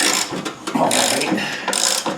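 A ratchet wrench turns idler bolts on a Cub Cadet ZT1 zero-turn mower deck, a close, busy clicking that runs in short back-and-forth strokes with brief pauses.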